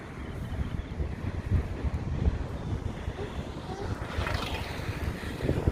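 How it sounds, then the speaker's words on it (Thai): Gusty wind blowing outdoors on a street in Iceland, a steady loud rush buffeting the microphone throughout, with low rumbling gusts and faint background noise. "ตกนะคะลมด้วย ฟืดฟืดฟืดฟืด"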